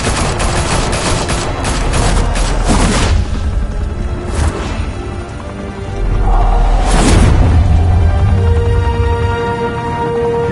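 Heavy gunfire and booming blasts fill a Batman Telltale game scene, loud sustained fusillades with a deep rumbling explosion midway.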